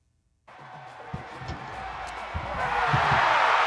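Crowd noise at a college football game: after a brief silence a broad crowd roar comes in and swells steadily louder, with scattered thumps and a voice in the mix.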